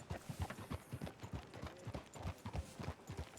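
Horse hooves clip-clop at a steady walking pace in Red Dead Redemption 2, a close, regular plodding rhythm over a soft background bed, with no speech.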